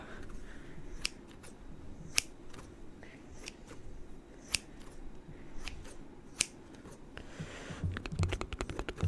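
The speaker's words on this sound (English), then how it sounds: "I have some scissors right here." Scissors handled close by: irregular sharp metallic clicks and snips over a low background rustle, ending in a quick burst of rapid clicking.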